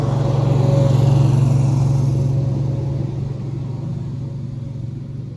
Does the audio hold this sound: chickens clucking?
no